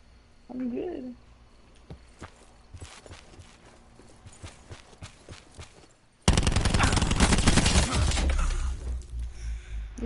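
An LMG fires in a video game: a dense, loud sustained burst of automatic gunfire erupts after a quieter stretch of scattered shots and footsteps, continuing through to the end.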